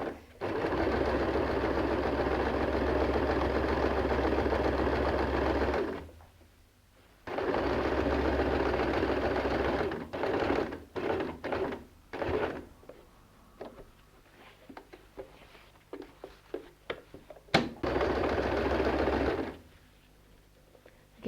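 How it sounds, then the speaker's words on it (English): A sewing machine stitching the corner of a denim bag made from old jeans, running in steady whirring bursts that pause while the fabric is turned, with clicks and handling noises between the runs. "Whenever you turn a corner, just make sure you drop the needle down before you turn the corners."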